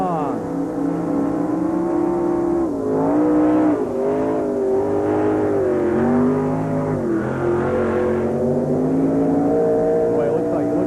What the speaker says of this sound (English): he bogs down right off the line